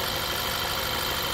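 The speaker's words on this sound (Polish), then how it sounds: "Gładziutko, cichutko, nic się nie dzieje, wszystko poskręcane, wszystko jest w porządku, idzie naprawdę perfekcyjnie" A 2008 Škoda Octavia Sport Edition with a 1.8 TSI 160 hp engine idles smoothly and steadily, the fuel injectors giving a faint rapid ticking within an even, close engine hum.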